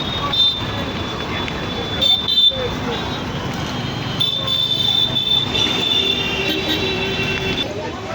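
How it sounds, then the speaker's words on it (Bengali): A metro train at Howrah Maidan station gives off a steady rumble with a thin high squeal from the wheels, heard close and continuous, the noise swelling slightly partway through. "এই যে হাওড়া ময়দানের মেট্রো স্টেশন।"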